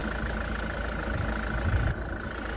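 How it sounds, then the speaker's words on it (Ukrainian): A Citroen C5 2-litre diesel engine idles steadily close by, a low continuous rumble with a faint rhythmic knock and no talking. "На мою думку, це шикарна робота цього мотора"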